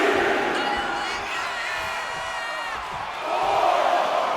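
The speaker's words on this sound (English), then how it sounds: "Bron Breakker getting the crowd riled up right now." A wrestling house show crowd during a heavyweight title match roars with sustained cheering and whoops, a dense, loud wash of voices that dips briefly and then surges again near the end.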